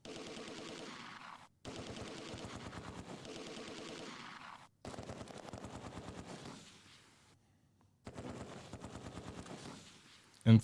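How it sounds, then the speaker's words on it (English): Machine gun fire in the WWII strategy game Close Combat 2: A Bridge Too Far, long rapid bursts separated by short pauses and one longer gap, loud and sustained, with no voices. "So our machine gun is firing to pin down the Sturm Grenadiers."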